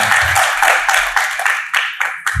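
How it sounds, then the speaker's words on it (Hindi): Audience in a devotional gathering clapping together on request, a dense, steady burst of many hands at close-to-mid distance that pulses unevenly and carries on alone without talk. "अच्छा, तालियां बजाओ सब।"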